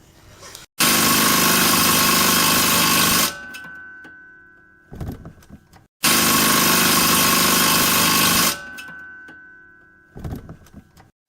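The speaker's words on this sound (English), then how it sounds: "Then we're going to go under, use my impact, run it in, and then torque it down." An impact wrench runs a bolt in under a 2013+ Ford Focus during a Koni Yellow shock install, giving two long, loud, steady buzzing bursts, each followed by a short pause and a few brief clanks.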